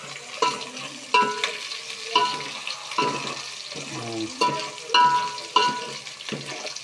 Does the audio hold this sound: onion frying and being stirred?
yes